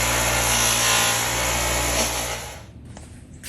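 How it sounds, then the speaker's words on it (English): Electric polisher buffing a 75-year-old Van Dorn drill during restoration: a steady, loud motor whine with broad grinding hiss running continuously, then winding down and dropping away near the end. "done using the polisher"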